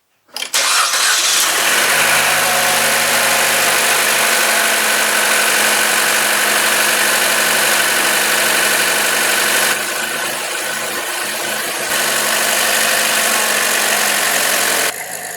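A Chevrolet Cruze 1.4 turbo engine cranks and catches, then settles into a steady, loud idle with a constant mechanical drone and hum, heard close up and alone without talk.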